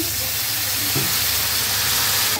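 Turmeric, ginger paste, chili paste and water hitting a hot pan, giving a steady, dense hiss of sizzling and steam that runs the whole time, close and loud.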